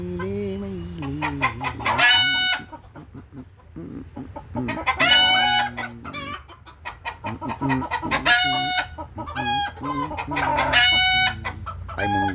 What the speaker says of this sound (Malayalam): ഫയോമിയ പൂവനാണ് ആ കാണണ്ടേ